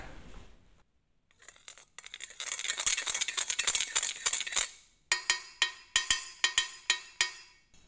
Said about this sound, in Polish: Jeszcze inny dźwięk wyda durszlak.